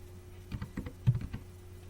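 Keys clatter on a computer keyboard while entering a name into an ASP.NET Core web page form in Visual Studio 2019, about a dozen close, light taps in a quick irregular burst with no talking.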